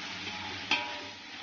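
Onions frying in hot oil for mutton biryani, a steady close sizzle with one brief stir or scrape in the middle.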